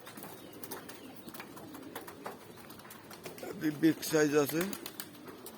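A pair of pigeons coos, with low repeated throaty coo calls swelling loud and close near the end, while someone talks and calls to them across the whole clip.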